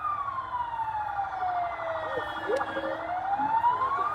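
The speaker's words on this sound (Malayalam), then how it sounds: "ആംബുലൻസ് ഇതുവഴി കയറ്റാൻ പോകുന്നു" An ambulance siren wails steadily and loudly at close range, its rising and falling tone carrying through a fully blocked traffic jam near Kazhakkoottam, Trivandrum, over the low rumble of idling vehicles.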